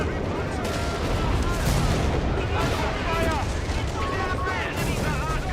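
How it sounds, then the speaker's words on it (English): A creeping artillery barrage in a Final Stand game mode, heard as a steady roar of loud explosions and gunfire with no gaps. Game voice chatter sits over the bombardment. "Creeping barrage incoming."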